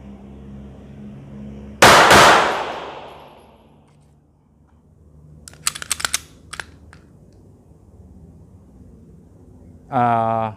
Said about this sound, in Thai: อ่ะขอยิงยิงติดเลยสองนัด ดูว่าแรงรีคอยเป็นยังไงบ้าง